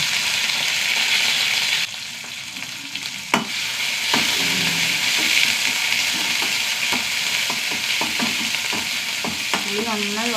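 Shallots and curry leaves sizzle steadily in hot oil in a pan, a constant frying hiss with occasional utensil scrapes and stirring clicks close by, no voices.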